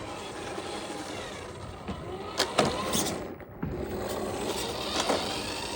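A Maisto R/C Volkswagen Bus runs its small electric motor at full throttle, a steady whirring drone with brief surges and a short dip midway, continuous and close.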